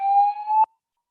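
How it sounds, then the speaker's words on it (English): A fire alarm sounds during an online conference opening ceremony, a single loud steady electronic tone that cuts off abruptly after just over half a second, followed by silence. "That is a fire alarm."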